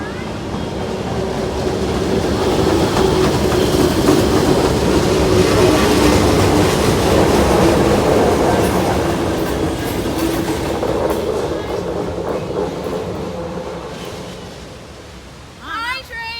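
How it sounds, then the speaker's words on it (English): A train rumbles past a winter campground at Porteau Cove, with rhythmic clickety-clack, swelling loud over several seconds then fading away near the end. "Here comes the first train."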